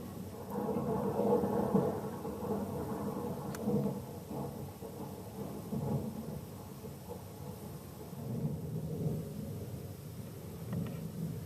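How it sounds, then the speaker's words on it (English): Continuous tape recording of a thunderstorm playing in the background of a model railway layout, a steady low rumble with soft rain-like hiss and faint distant thunder throughout, no voices. "there's a continuous tape running of a recording of a thunderstorm that I made many years ago, and it plays continuously in the background"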